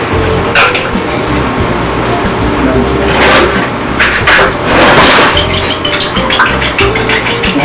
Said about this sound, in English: the first thing we want to do is we want to beat the eggs to a bowl